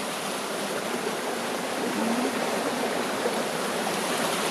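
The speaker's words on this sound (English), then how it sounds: "You can see the water's going really fast along here, and it's obviously not helped by the weir." Fast-flowing flooded river water pours over a weir, a steady, broad rushing roar that stays constant and close throughout.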